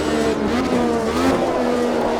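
A 1985 Formula 1 car in the AMS2 racing game, its engine droning steadily while the tyres slide and squeal faintly across the short stretch.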